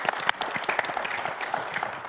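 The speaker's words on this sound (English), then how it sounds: "Let's give her a round of applause." Festival crowd clapping for a giveaway winner, a lively, close patter of many hands with a few sharper claps standing out, no voices over it.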